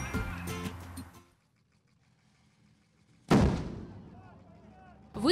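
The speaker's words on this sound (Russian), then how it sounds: "Выстрел из корабельного орудия 19 века" A single loud blast from a 19th-century naval cannon booms out after a quiet stretch, its rumble trailing off. Indistinct voices and a noisy crowd are heard beforehand.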